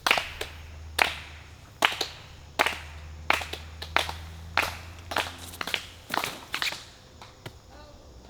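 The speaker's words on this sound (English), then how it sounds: "Can I get a slow clap?" A slow clap at a disc golf tee during a tournament finale: single sharp claps spaced about a second apart, growing quicker and denser toward the end, with faint talk in the background.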